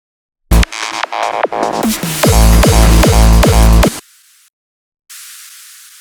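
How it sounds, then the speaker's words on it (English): A pounding hardstyle electronic beat with sweeping hits cuts off abruptly. A thin, airy white noise riser hisses on its own after a short silence. "we also have this white noise to really amplify the impact of this new or second drop"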